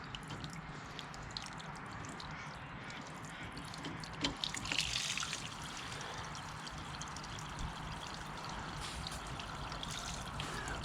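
Water drains steadily out of the boiler of a broken hot wash pressure washer, a continuous trickling wash of moderate loudness with a slightly busier splash near the middle.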